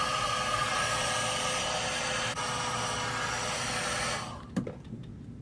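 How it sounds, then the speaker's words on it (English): A hair dryer blows close and steady on fresh wig glue over a bald cap for about four seconds, then cuts off, leaving a few soft handling rustles. "so I'm just gonna blow dry that again"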